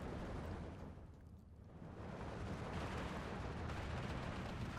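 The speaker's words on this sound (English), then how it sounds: "50 mil mortar doing what it does." Mortar fire from 50 mm mortars in the war strategy game Steel Division 2, heard as a dense, continuous rumble of distant blasts and gunfire with a brief dip before the barrage builds back up.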